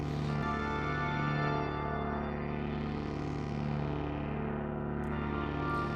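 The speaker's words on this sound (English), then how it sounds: "Because we could chuck loads of reverb on and it becomes spacey and lovely." Sustained synthesizer chords from an NDLR setup drenched in heavy reverb, a steady droning wash of tones that swells and fades slowly, moderately quiet and alone.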